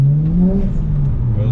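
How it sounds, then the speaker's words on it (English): A car's wheels spin on slippery, slick ground, producing a steady loud engine whir with a sustained droning tone through the short burst. "Wheel spin."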